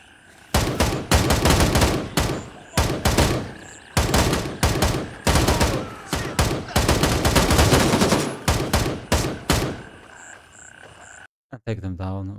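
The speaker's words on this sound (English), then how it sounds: "Take them down with a couple of bullets" Gunfire in the military shooter Gray Zone Warfare: loud, close bursts of rapid automatic shots in uneven clusters separated by brief pauses, ending in quiet with a short trailing sound.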